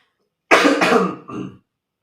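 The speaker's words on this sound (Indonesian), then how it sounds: "Maaf guys batuk" A woman coughs twice, a harsh throaty burst followed by a shorter second cough, close and clear in an otherwise quiet room.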